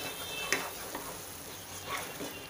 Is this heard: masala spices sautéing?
yes